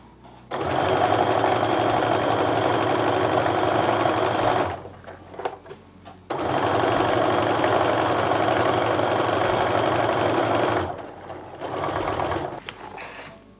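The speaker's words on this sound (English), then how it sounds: "Just keep sewing around and pressing as you go." A sewing machine stitches quilt strips for a fall maple leaf log cabin quilt in two long steady bursts of fast, even whirring, each about four seconds, with short pauses between and a brief third run at the end.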